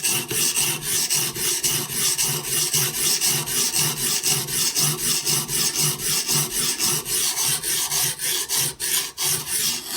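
A Hapstone sharpening stone rasps against a Benchmade Bushcrafter 162 knife in rapid, even back-and-forth strokes, close and steady for the whole stretch with no voices.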